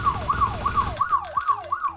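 Video game police siren wailing in a fast repeating up-and-down cycle, loud and close, about seven rises in quick succession while a low rumble fades out midway.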